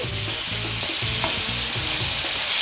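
A side dish with brown sugar, salt and fresh lemon juice sizzles steadily in a hot pan while being stirred, a dense continuous hiss with soft scraping beneath it.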